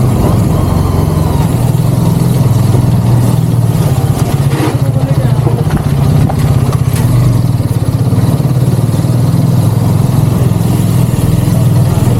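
A Hero XMR 210 motorcycle engine runs steadily while being ridden, a loud, close, continuous throb with rapid pulsing, mixed with wind buffeting and occasional speech.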